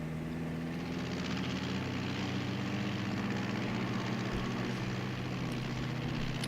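A continuous, droning aircraft engine hums steadily throughout with a low, pulsing tone, and no one speaks.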